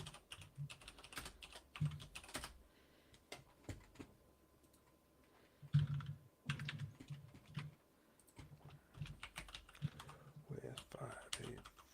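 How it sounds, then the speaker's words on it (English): Fast, irregular clatter of keys on a computer keyboard, close and busy in bursts with short pauses, sometimes hard and jabbing, with a faint voice in the background. "Just jamming on the keyboard."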